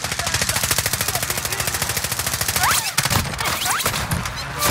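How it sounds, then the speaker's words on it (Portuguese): Rapid, loud automatic gunfire rattles continuously in the Call of Duty: Modern Warfare video game, with a few whooshing effects and impacts mixed in near the end. "Estão atirando em mim!"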